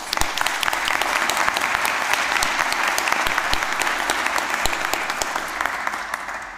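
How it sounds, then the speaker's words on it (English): An audience at a City College Dublin graduation ceremony applauds the graduates in a loud, continuous round of clapping with a few sharper claps standing out, unaccompanied by speech. "Can we give our graduates a round of applause?"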